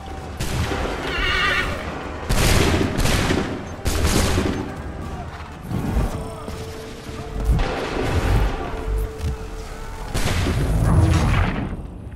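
Musket volleys crackle during a battle in Assassin's Creed III, set at Lexington, mixed with neighing horses and shouted commands, with several loud bursts of gunfire spread across a busy, noisy scene.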